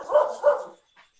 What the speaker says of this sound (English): I have a dog's going a little bit crazy over here